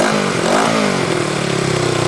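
An old Honda motorcycle engine, about 33 years old, runs steadily and close by, with a continuous rough mid-pitched drone and a slight rise in revs.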